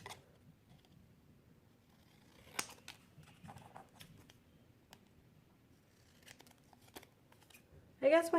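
Scissors cutting paper cards freehand for a journal craft, sparse close snips and paper rustles scattered across the quiet, with a louder crinkle at the end.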